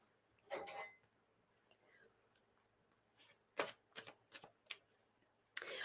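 Oracle cards being shuffled during a zodiac reading: a brief riffle early on, then a cluster of quick, crisp card flicks and slaps near the end, close by in a quiet room with no talking.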